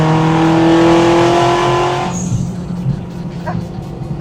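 An 800hp turbocharged all-wheel-drive Honda Civic sleeper pulls hard in 5th gear from about 50 mph, its engine drone loud and steady inside the cabin before easing off, with faint voices after.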